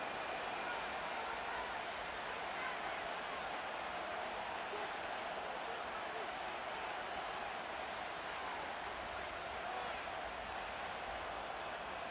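Stadium crowd cheering at Levi's Stadium in Santa Clara in the Madden 25 football video game, a constant dense roar of distant voices and applause that holds at even level throughout.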